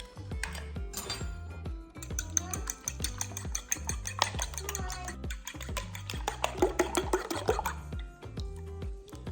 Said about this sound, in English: give them a little bit of a beating with a fork before you add them into your batter